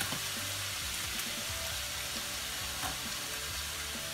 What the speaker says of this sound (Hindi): और इसमें जाएगा थोड़ा सा जीरा